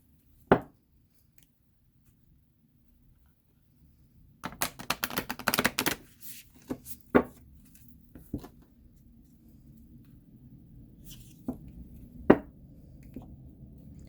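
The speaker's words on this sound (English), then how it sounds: "So if I split them in half, I can riffle shuffle." A Wild Unknown Archetype tarot deck, whose cards tend to stick together, is split and riffle shuffled up close: a quick rattling burst of flicking cards, then scattered light taps and clicks as the deck is squared, with no talk.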